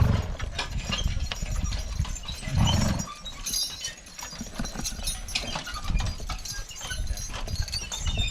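Draft horses walking slow and steady while pulling a White Horse plow through a garden, with soft irregular hoof clops over broadband outdoor noise, a heavier thud near the middle, fairly close and continuous throughout.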